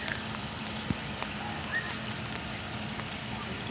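Heavy rain falls in a steady, dense hiss around the Taquari area of Palmas during flooding, continuous and fairly distant, with a few faint knocks and no clear talk.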